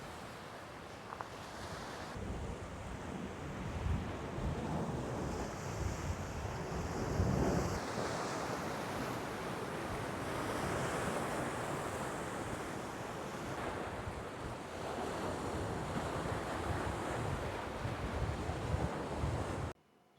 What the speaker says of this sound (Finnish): Tätä aika mahtava meri on nyt.